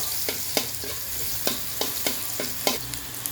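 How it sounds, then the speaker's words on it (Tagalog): Garlic and onion sautéing in a pan for a pork steak sauce: a steady close sizzle with regular sharp scrapes and taps of a spatula stirring, no voices. "mag-gisa na tayo ng sauce para sa ating pork stick. Gusto muna tayong bawang."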